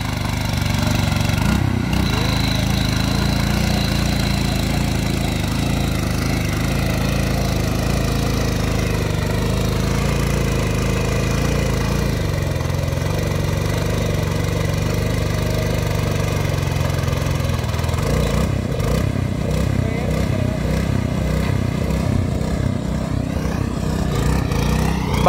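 A farm cage-wheel machine, a new 6-foot-wide model, runs steadily in second gear, its engine a loud continuous mid-pitched drone that roughens and thumps more heavily near the end.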